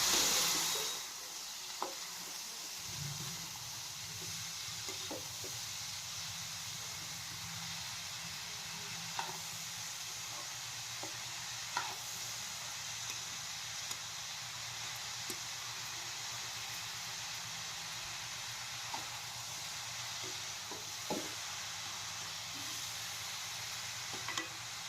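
Cabbage and chana dal fry in a pan with a steady, soft sizzle, broken by occasional scrape-and-stir clicks of a spatula, close and continuous without talk.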